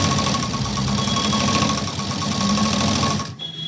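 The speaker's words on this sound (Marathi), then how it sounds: "आता आपण इथे शिलाई देऊन घेऊ." A sewing machine runs a seam while a sleeve is being stitched, giving a steady, close mechanical whir that carries on evenly and then stops abruptly near the end.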